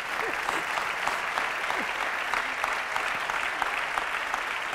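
An audience at an Italian conference forum breaks into sustained applause, dense clapping filling the room at an even level from start to finish.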